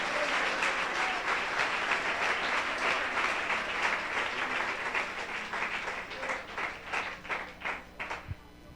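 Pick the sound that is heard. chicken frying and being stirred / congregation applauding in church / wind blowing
congregation applauding in church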